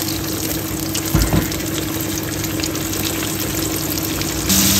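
Fish frying in hot oil gives a steady, loud sizzling hiss with faint crackles and a brief bump partway through; no one speaks.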